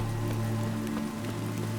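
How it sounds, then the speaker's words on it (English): Rain falls steadily in The Witcher 3 video game, a continuous soft patter of drops on surfaces layered over a low sustained musical drone, even and unbroken throughout. "Looks like rain."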